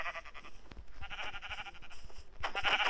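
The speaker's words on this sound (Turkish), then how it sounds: "Koyun da lazım, koyun da lazım, koyun da lazım." Sheep bleat in Minecraft, the blocky game bleats coming in several loud, wavering calls across the clip, with the last and strongest near the end.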